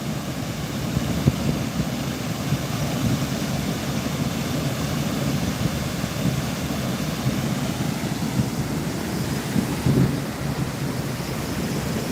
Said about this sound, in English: Drink a beer here, checking out the waterfall.